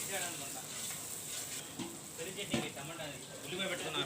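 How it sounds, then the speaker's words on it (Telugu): Finely chopped onions frying in a pan for Andhra tomato dal, a faint, steady sizzle with a few scraping stirs, heard quietly beneath a voice talking. "ఇప్పుడు సన్నగా కట్ చేసుకున్న ఉల్లిపాయలని వేసి వేయించుకోవాలి."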